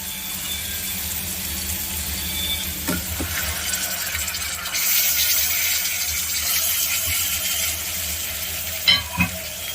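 Chicken pieces frying in hot oil with ginger and garlic, a steady close sizzle under repeated stirring and scraping, with a few louder clinks near the end. No talking.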